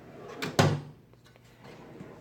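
A drawer on a Harbor Freight US General tool cart slides and shuts with one firm thump, a brief rattle before it, then quiet shop room tone.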